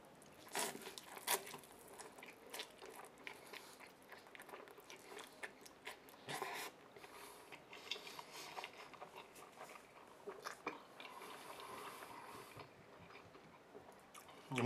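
Eating Samyang 2x spicy noodles, with close, continuous wet chewing and slurping interspersed with sharper bites and crunchy clicks throughout, fairly quiet and without talk.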